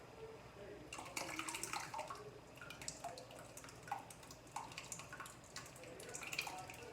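Strained homemade yogurt liquid poured into a colander, splashing and pattering in irregular bursts at close range, quiet and without talk.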